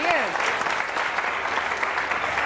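A studio audience on an Iftar Ka Samaa television set claps, a dense burst of applause that holds steady for a couple of seconds, with a brief tonal sweep at the very start.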